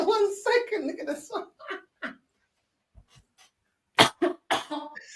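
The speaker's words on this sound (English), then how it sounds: "that's a nasty cough there" A man's harsh, nasty cough bursts out in a few rough fits amid casual talk, close to the microphone, with short silences between.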